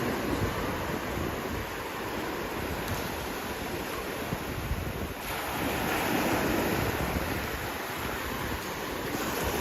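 Waves wash continuously onto a beach in a broad, loud rush of surf, with gusty wind buffeting the microphone throughout.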